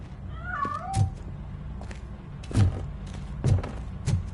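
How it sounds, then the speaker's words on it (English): A cat meows a few times in Robocop: Rogue City, short cries broken by soft thumps, set against quiet game ambience with no talk. "That cat must be hiding inside."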